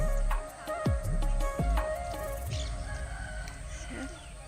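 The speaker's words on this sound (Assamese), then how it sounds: "ঘৰটোত মুৰ্গী চুৰ্গীবিলাক আছে" A rooster crows loudly nearby in a village setting while chickens cluck around it, with several sharp calls in the first half and softer fowl sounds after.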